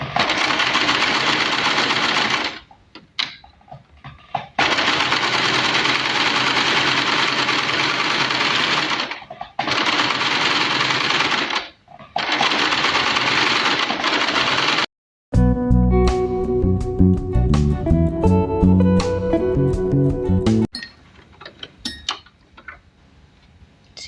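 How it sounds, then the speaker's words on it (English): A sewing machine stitches a gathered, ruffled cushion cover in long steady runs of loud, close motor whirring broken by brief pauses, followed near the end by a shorter stretch of different tonal clinking. "Okay, so now I'm on my machine and we need to stitch from here"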